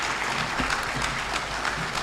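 A conference audience stands to applaud the chief guest at a parliamentary budget offices gathering, a steady broadband patter of many hands clapping together, continuous and fairly loud with no voices over it.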